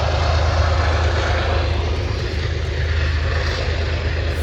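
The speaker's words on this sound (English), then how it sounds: "It is a train, and it is very close." A small park train at Jellystone Park in Colorado passes very close by, a loud, steady, low rumbling roar with broadband engine noise that holds throughout without pause.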